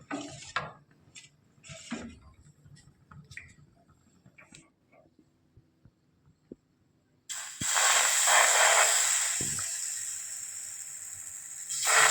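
Gola ruti batter being stirred in a bowl with light clinks and scrapes, followed by a loud steady hiss and sizzle as the batter hits the oiled griddle, close and continuous.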